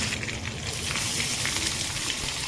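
Tempering seeds and cumin sizzle and crackle in hot oil for Rayalaseema ugani, a dense, steady frying hiss heard close and alone throughout.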